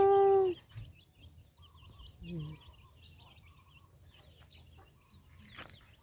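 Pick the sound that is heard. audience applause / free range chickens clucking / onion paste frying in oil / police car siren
free range chickens clucking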